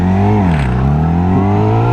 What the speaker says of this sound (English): I caused the engine to choke again